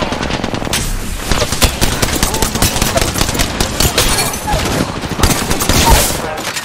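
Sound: gunfire in a video game

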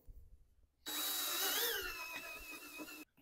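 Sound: power drill drilling a hole

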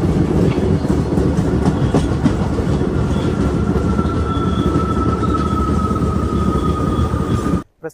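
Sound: Kacheguda Guntur Express train arriving at Donakonda station

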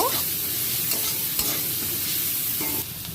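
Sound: onions frying in hot oil in a pan

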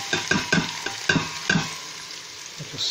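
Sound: onions frying in a pan

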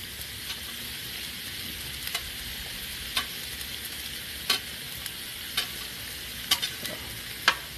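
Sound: peppers and onions frying and being stirred in a pan

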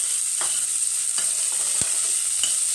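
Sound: frying onion and garlic in a pan

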